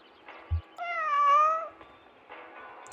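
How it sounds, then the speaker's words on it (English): A sad cat meows in the video game Kentucky Route Zero: a single drawn-out, wavering meow, clear and close over a quiet ambient hum. "Sad meow."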